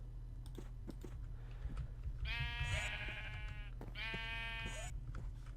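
Two loud bursts of sheep bleating from Minecraft, each a wavering stacked cry lasting about a second, heard over a steady low hum and scattered computer keyboard clicks.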